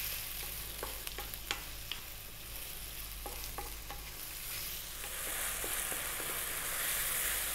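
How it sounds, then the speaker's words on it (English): Tomatoes fry and sizzle in a pan for lamb curry, with a steady close hiss and repeated scraping stirs of a utensil against the pan, no voices. "I really wanna cook these tomatoes down before the lamb goes in"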